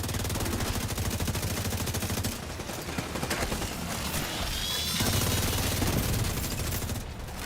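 Rapid automatic gunfire in the shooter game The Division 2, sustained machine-gun bursts rattling loudly almost nonstop, with a short lull midway before the firing picks up again, no talking.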